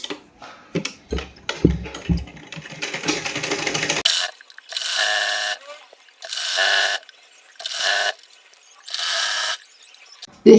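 A sewing machine stitches a folded hem on a piece of an A-line suit, running in four steady bursts of about a second each with short pauses between them, after a few seconds of scattered clicks and handling noises.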